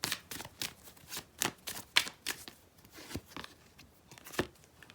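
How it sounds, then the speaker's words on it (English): Tarot cards being pulled from the deck and handled, producing a run of soft, crisp shuffling and flicking sounds, close and fairly quiet, with no talking. "I'm just going to pull some more cards and have a look."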